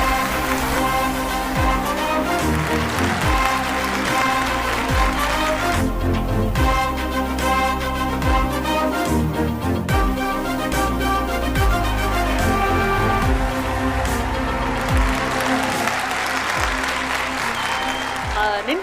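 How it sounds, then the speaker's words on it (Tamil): Loud, dense audience applause at a stage event honouring a television comedian, blended with loud music that plays throughout, forming a steady wash of sound for nearly twenty seconds. "please put your hands together"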